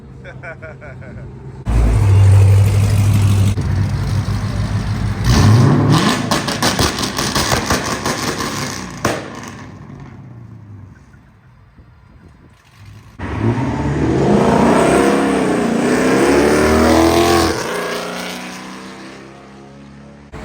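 A loud Chrysler 300 engine revs hard twice, roaring up and down, with a quieter idle between bursts and people talking and shouting nearby.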